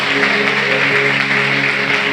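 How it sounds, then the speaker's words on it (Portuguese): Church congregation applauding during a service, a brief continuous roar of clapping with a sustained musical hum beneath it. "pode aplaudir a Jesus"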